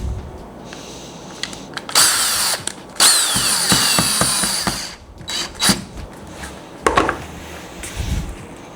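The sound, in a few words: power drill drilling into a frame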